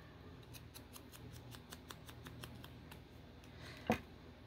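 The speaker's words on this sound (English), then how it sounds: "Oh, that just isn't any run-of-the-mill scissors." Scissors snip through material during a moth-themed craft project, a quick run of faint, steady cuts followed by one sharper, louder snap near the end.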